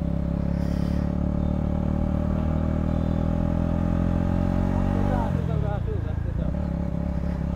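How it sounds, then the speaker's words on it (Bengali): A motorcycle engine drones steadily at close range as the bike sets off, rising in pitch near the end as it accelerates, with a person talking over it. "তো এই মুহূর্তে আমরা বেরিয়ে পড়লাম বাইকে"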